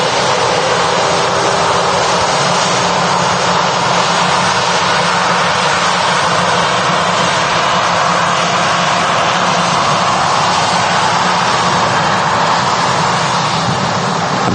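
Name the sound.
TUI Boeing 787-9 Dreamliner jet taking off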